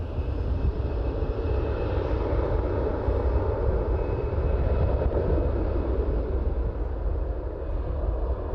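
An Air Canada airliner at Toronto airport roars steadily with a loud, broad jet-engine rumble and hiss, heard throughout without talk.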